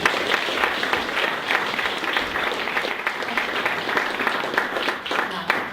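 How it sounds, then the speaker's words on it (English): An audience claps in sustained, even applause for a speaker about to take the stage, a dense patter of many hands heard at moderate distance. "Let's give Lisa Rudgers a big warm round of applause."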